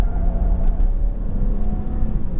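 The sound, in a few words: Toyota Camry TRD engine at full throttle in sport mode, shifting gears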